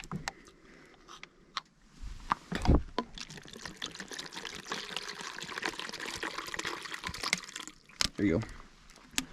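Water pours and trickles into a dog's bowl outdoors during skid-steer attachment repair work, a steady splashing stream lasting several seconds, with a voice talking over it and a brief louder thump partway through.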